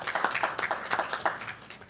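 Audience clapping at a school board meeting, a steady patter of many hands that runs through the whole moment at a moderate level, with no talking over it.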